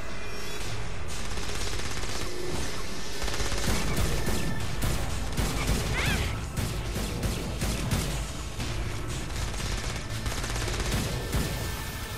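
Sustained gunfire in Saints Row: Gat Out of Hell, a continuous roar of rapid automatic bursts with heavy low rumble, loud and unbroken throughout with only a slight easing partway through.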